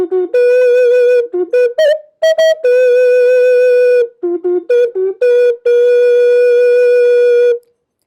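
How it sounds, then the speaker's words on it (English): A loud Sabbath whistle sounds several short blasts, then a few long, steady tones, with no voices. "That's the sound of the Sabbath whistle."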